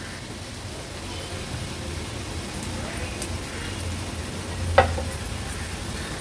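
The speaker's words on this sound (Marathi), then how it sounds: "हळद आणि मसाला तेलावर छान आपल्याला परतून घ्यायचा आहे" Turmeric and masala sautéing in oil over a high flame, a soft continuous sizzle with light stirring and one brief clink near the end, no voices.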